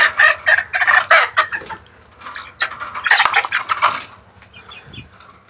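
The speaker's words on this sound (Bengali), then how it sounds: "এবারে মুরগিগুলোকে বের করে দেয়।" Desi hen and rooster cluck loudly in bursts as they are let out of a cage, with short crowing notes, brief wing flaps and a quieter lull before another round of agitated clucking.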